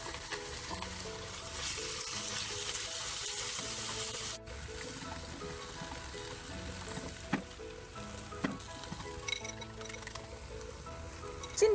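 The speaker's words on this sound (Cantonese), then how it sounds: "首先煎下啲薯仔先" Shredded potato fries in a pan with a steady, soft sizzling hiss, moderately close and fairly quiet, with a few faint pops and a short clatter at the end.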